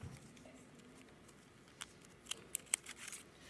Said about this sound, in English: So our cylinder, nice and easy to cut in half.